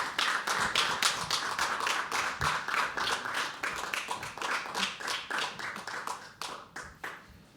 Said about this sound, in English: You people are amazing that you have still been clapping